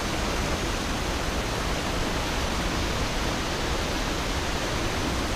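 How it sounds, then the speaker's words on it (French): Elephant Falls waterfall near Dalat, Vietnam roars as a dense, steady, close wash of rushing water with no break and no voices. "Donc ça s'appelle la cascade des éléphants je crois."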